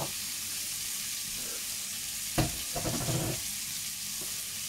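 Prawns frying in a pan for Thai spiced fried rice give a constant bright hiss of sizzling oil, with a brief louder burst of crackle and stirring near the middle, close up and without talk.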